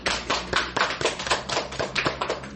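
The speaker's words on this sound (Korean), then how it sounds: "남은 분들의 이하동문 같이 박수 한번 합니다" Church congregation clapping together in rhythmic bursts, many hands striking in a fairly steady, close, full-sounding pattern.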